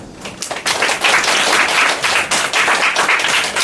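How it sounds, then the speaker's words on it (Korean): A church congregation claps in welcome as a preacher comes forward, a dense, steady round of applause from a nearby crowd lasting several seconds with no one talking. "최 박사님 나오실 때 박수로 환영해 주겠습니다"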